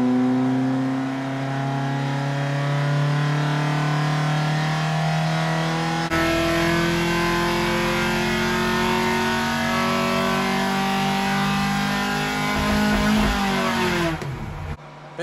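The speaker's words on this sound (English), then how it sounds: "The dyno is holding the RPM there." A Ford Pinto 2.0 engine with big valve head and Newman PH4 cam roars steadily at full throttle on a dyno, holding a high, sustained pitch for a long stretch before cutting off abruptly near the end.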